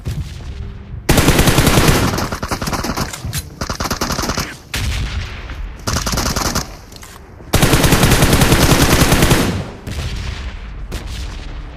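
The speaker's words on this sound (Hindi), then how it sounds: "अभी सप्रेस फायर आ रहा है।" Suppressed gunfire in the BGMI mobile battle game, loud rapid automatic bursts in several long sustained stretches separated by short pauses, with no talk.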